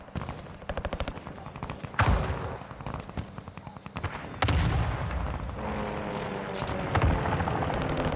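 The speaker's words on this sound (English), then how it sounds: "Friendly airstrike in the AO." Airstrike explosions in Call of Duty: Modern Warfare II, heavy booming blasts that strike suddenly and roll on amid rapid gunfire crackle, loud and close.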